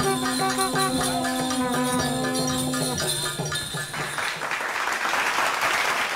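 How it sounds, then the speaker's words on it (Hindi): Applause follows a Dhobiya folk dance performance at an election event in Azamgarh. Tonal music with bell-like tones fades out and then gives way to a loud wash of audience clapping. "जोरदार तालियां उमेश कनौजिया"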